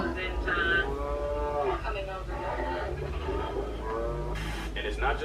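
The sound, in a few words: tiger imitating a cow's moo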